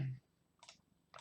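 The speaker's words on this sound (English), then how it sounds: "I'm holding control while I click so I can select these ones" Two quick computer mouse clicks selecting files, close and crisp, after a short bit of low voice at the start.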